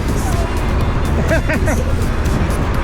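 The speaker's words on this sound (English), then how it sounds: "It's definitely noisy now because, as you can hear, the wind is very strong." Loud, steady roar of strong wind buffeting a moving open-topped Moke car, with road noise underneath and a brief murmur of voices partway through.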